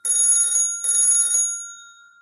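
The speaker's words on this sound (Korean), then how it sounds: "전화벨이 울리고 있어." A mobile phone in the Mystic Messenger game rings with two loud, bright electronic trills separated by a short gap, the second fading out in a ringing tail, with no voices.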